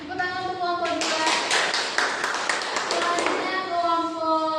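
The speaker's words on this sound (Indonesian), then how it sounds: "Tepuk tangan untuk kelompok 2." Second-grade elementary schoolchildren in a classroom break into a short burst of scattered clapping for a student group, roughly two seconds of quick claps nestled between stretches of talking.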